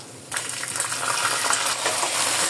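Panch phoron, a five-spice tempering, hits hot oil over a medium flame for an eggplant pickle and breaks into a loud, dense sizzle and crackle that starts suddenly and keeps going steadily, with no voices.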